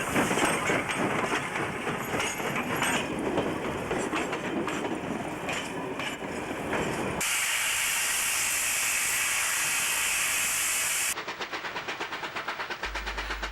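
Steam locomotive 3818 works hard hauling a special train in New South Wales, with loud, continuous steam hiss and exhaust beats. A sharp cut brings a steady roaring hiss, and a final section has faint rhythmic rail clicks.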